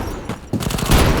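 Gunfire in the shooter game Bullet Force, a brief burst of rapid shots rattling close and loud for about a second.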